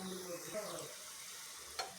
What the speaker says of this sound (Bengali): এরকম লাল লাল করে ভেজে নেবো উল্টে পাল্টে।